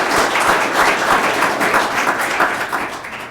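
A room of people applauds after a city councilman takes the oath of office, dense steady clapping throughout at moderate distance, with no speech over it.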